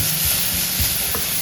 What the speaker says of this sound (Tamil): இதை ஒரு வதக்கிடுவோம்